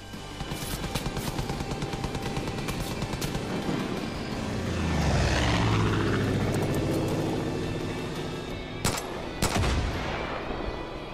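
A plane in the shooter game Far Cry 5 roars in and passes overhead, swelling loud mid-way then fading, amid sharp bursts of gunfire before and after.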